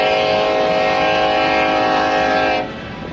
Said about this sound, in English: So Miz, you still like the sound of American trains? They're so loud when you're right up next to them.